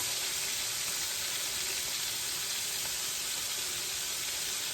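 Pieces of liver frying in a pan over a fire, a steady, close, broadband sizzle that holds evenly throughout with no voices.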